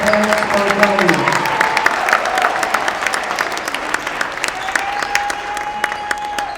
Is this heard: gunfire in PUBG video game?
no